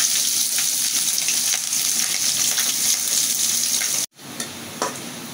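Bay leaf, onion, garlic and green chilli fry in hot oil with panch phoron, a loud steady sizzle that cuts out abruptly near the end, then resumes more quietly with a couple of light clinks.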